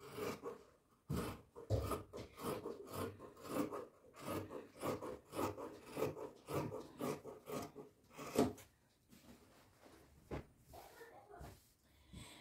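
Scissors cut through garment fabric in a series of close rasping snips, alongside rustling of the material, while a person talks in between.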